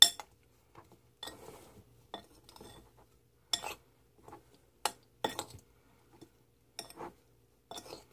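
A utensil mixes seasoned shrimp in a bowl, with scattered sharp clinks and scrapes against the dish coming in irregular bursts separated by quiet pauses.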